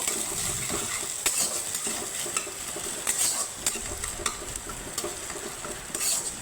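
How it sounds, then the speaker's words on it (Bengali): Grated ginger with chopped green chilli sizzles softly in a pan as a utensil stirs it, scraping and clicking against the metal in irregular strokes, with no voices over it. "আর দিয়ে দিব গ্রেট করে রাখা আদা তো হালকা আছে আমি একটু নাড়িয়ে চালিয়ে নেব"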